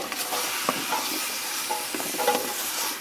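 Garlic stirred into a pot of minestrone soup base with carrot, a soft continuous sizzle under scattered spoon scrapes and light knocks against the pot, close and moderately quiet.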